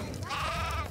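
Sheep bleat in the video game Craft The World, a single wavering, nasal cry lasting about a second, fairly close, over a steady low background hum with no talk.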